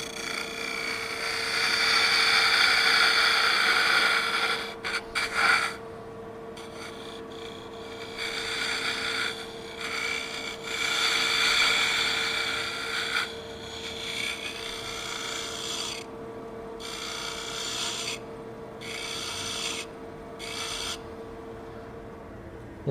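Detail gouge cutting into a spinning wooden Christmas orb on a lathe while hollowing it, a steady close rasping scrape over the machine's constant hum, with the cut pausing and resuming in several short breaks.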